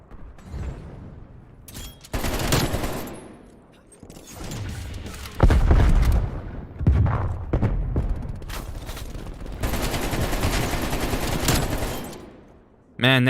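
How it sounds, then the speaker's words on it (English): AK rifle fire in a shooter video game, loud automatic bursts broken by short gaps, with heavy thumping impacts, all close and dense across the stretch. "that AK sure packs a punch, but it's got a lot of kick"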